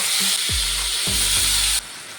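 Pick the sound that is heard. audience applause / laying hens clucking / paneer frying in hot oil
paneer frying in hot oil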